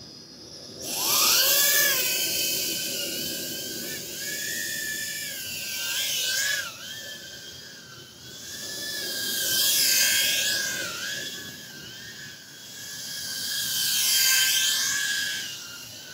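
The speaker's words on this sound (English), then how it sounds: "the motors and the way they sound, pretty typical of a lot of brushless whoops" Brushless motors and propellers of an iFlight Alpha A65 tiny whoop drone whine in high, wavering tones that swell and fade repeatedly as the craft speeds up and slows while flying nearby.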